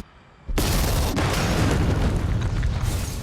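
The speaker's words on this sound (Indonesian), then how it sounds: "ketika bom telah siap, ledakan tersebut bersamaan dengan mobil yang telah dibawa oleh Hope" A bomb goes off in the film The Misfits, a sudden heavy explosion after a quiet moment, followed by a loud, sustained roaring rumble that holds to the end.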